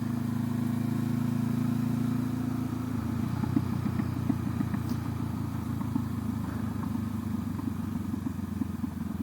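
Motorcycle rolling over gravel, a steady low engine drone at first that gives way to a rougher, crunchy rumble with scattered clattering as the bike coasts along.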